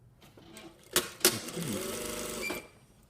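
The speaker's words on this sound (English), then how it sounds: "So I'm just going to sew up this underarm and then overlock this" A sewing machine stitching the underarm seam of a shirt sleeve gives two sharp knocks, then a steady mechanical whir lasting over a second before it stops, close and clear.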